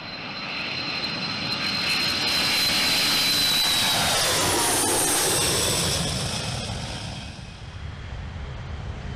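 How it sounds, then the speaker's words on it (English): A jet tanker aircraft takes off with a loud roaring engine rush that builds and peaks midway, with a thin whine on top, then slowly recedes into the distance. "A tanker, like any other aircraft, take off in a traditional way."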